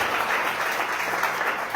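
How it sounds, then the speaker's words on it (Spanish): A church congregation applauds the Lord during a Spanish-language sermon, a steady wash of clapping that holds evenly through the short stretch with no voices rising above it. "Vamos, dar un aplauso al Rey de Gloria"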